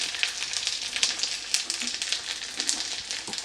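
Sliced green chillies frying in hot oil in a pan while Bengali egg curry is cooked, giving a steady close sizzle with crackling pops throughout, no voices.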